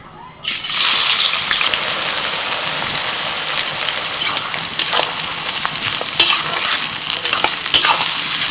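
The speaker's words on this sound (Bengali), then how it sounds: "বিরিয়ানির জন্য প্রথমে বেরেস্তা ভেজে নিচ্ছি" Sliced onions deep-fry in hot oil for biryani beresta, a loud, close, continuous sizzle that bursts in abruptly and keeps crackling, with occasional stirring scrapes through it.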